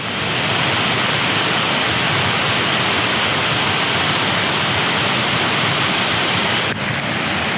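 A constant, loud rush of flowing water, broad and steady like a fast river close by, with no voices.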